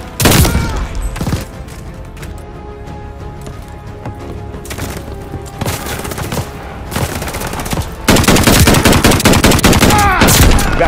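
Heavy gunfire in the Battlefield 1 video game, with dense bursts of rifle and machine-gun shots and impacts running throughout, swelling into a loud sustained volley near the end.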